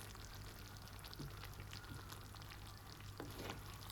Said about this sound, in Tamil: இப்போ நாங்கள் கொஞ்சம் பால் சேர்க்கிறோம்